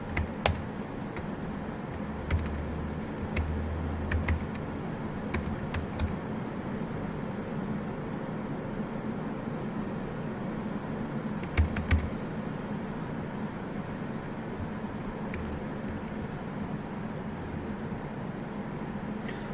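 A computer keyboard being typed on as a Gmail username is entered, quiet scattered key clicks in short bursts over a steady low hum, no voices.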